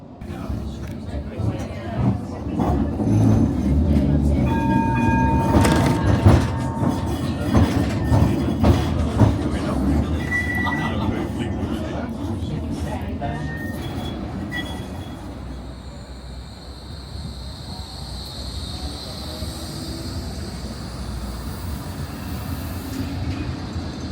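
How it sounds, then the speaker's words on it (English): A Blackpool tram rumbles steadily along its rails on a new line extension, wheels clicking and occasionally squealing, with a constant low drone throughout. "So we're now coming on board the tram"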